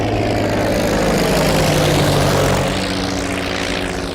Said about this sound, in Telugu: ఏదేమైనా ఫస్ట్ టైం ప్రైవేట్ ఫ్లైట్ ఎక్కినందుకు చాలా హ్యాపీగా ఉందిరా.